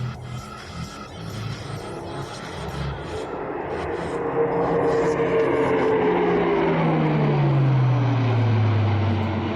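Airbus A400M military transport aircraft performing a tactical flying display, its turboprop engines droning loudly and steadily, with a passing pitch sweep downward as it banks and moves away.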